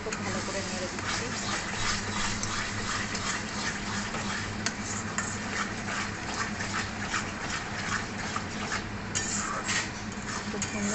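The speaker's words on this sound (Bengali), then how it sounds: "তো এবার আমি খুব ভালো করে নেড়ে দিচ্ছি" Spices for a pomfret curry being stirred in a pan, a steady run of metallic scraping and clinking from a utensil against the cookware, with sizzling underneath and a voice talking over it.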